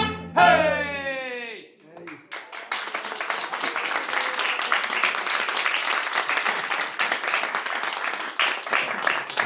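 A congregation breaks into sustained applause at a church gathering after a trumpet, the dense clapping swelling in and holding steady for several seconds. A brief voice and tonal sound come just before the clapping begins.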